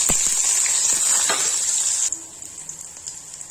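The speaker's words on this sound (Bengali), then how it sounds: "দেখো, পেঁয়াজ আমার ভাজা হচ্ছে।" Chopped onions fry in oil with whole spices, a loud close hiss and crackle that suddenly drops to a quieter, softer sizzle partway through.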